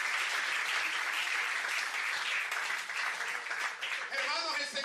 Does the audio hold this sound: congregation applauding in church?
yes